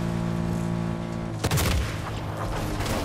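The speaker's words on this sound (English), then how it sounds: "there's a guy fucking shooting at us" Enemy gunfire in Fortnite: a loud burst of shots erupts about halfway through, cutting over a steady humming game background, followed by scattered further reports.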